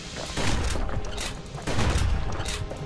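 Musket fire from the video game Bastion: a continuous barrage of loud, close gunshot blasts with heavy low-end booms, swelling in two dense bursts across the stretch.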